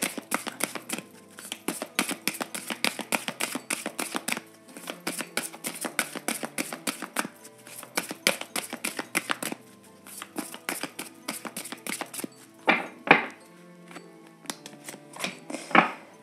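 Oracle cards are shuffled for a tarot-style reading, giving rapid, crisp riffling flutters in repeated bursts, close and fairly quiet, with short pauses between rounds.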